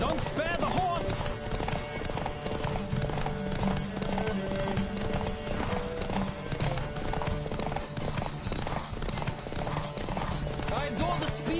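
A racing horse in The Witcher 3 gallops hard, its rapid hoofbeats pounding without pause at near range, mixed with rider shouts and the rush of the race around it.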